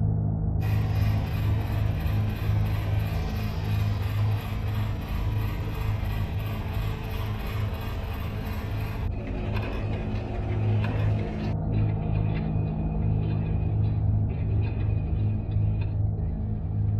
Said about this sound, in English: I sewed all the pieces together at the seams